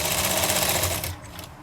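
A sewing machine runs fast and close, stitching piping onto a sleeve in one continuous loud mechanical burst that stops abruptly near the end.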